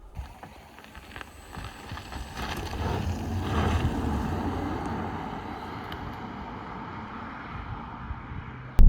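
A Mercedes-Benz eVito Tourer electric minibus drives along with a steady low road rumble and wind noise that builds slightly and then holds even, with no engine note and no talking.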